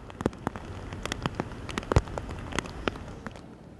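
Rain falls during severe flooding in Jammu and Kashmir, a moderate hiss of steady rainfall punctuated by many sharp, irregular drip and splash impacts close by, with no voices.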